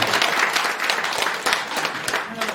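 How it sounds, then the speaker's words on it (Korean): A lecture audience at a security talk claps for a student who served in the army, brisk, dense applause that stays loud and even across the whole stretch, with a faint voice beneath. "우리 이거 현역 갔다 오면 박수 한번 하겠습니다"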